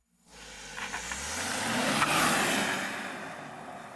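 A BMW hybrid car accelerates hard from a standstill toward 100 km/h with a smooth, rising whoosh of motor and road noise that builds steadily and stays moderately loud, with no voices.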